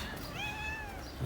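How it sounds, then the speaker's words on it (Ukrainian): A single drawn-out meow from a cat on a waterfront pier in Odesa, fairly close, rising and then falling over a soft background hum. "Це кіт Василь."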